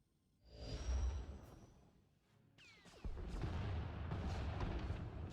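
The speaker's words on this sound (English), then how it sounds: "Enemy is firing. Turbo lasers, missiles, and what looks like transport pods." Starship turbolasers and missiles firing in the Star Wars: The Old Republic video game: a rising whoosh swells, then heavy booming barrages rumble continuously, loud and dense, with no voices.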